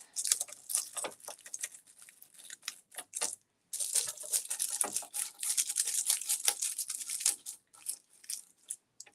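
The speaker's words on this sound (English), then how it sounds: "with a toothbrush you get, you can really get into those crevices and things" Brisk toothbrush scrubbing into the crevices of a painted dresser being sealed, a rapid run of close, dry bristle strokes with a brief pause near the middle and no talking.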